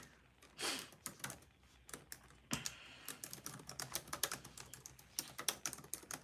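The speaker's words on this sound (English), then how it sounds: "Let me just type in the chat here." Rapid clicking of keys on a computer keyboard, close and fairly quiet, with irregular bursts of keystrokes and a few louder taps during a live stream.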